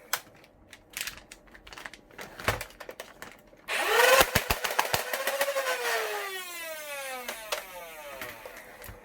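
A Dart Zone Pro MK3 foam blaster fitted with MechaROF+ fires on full auto, giving a fast burst of sharp mechanical clacks over a rising, whirring motor whine after some scattered clicks and handling noise.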